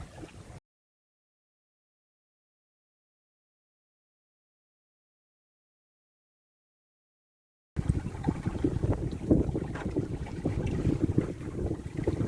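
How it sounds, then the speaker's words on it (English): Gusty wind buffets the microphone in a rough, roaring rush at sea aboard a sailboat off Dominica, broken by a long stretch of total silence before the noise returns. "There's little gusts of wind"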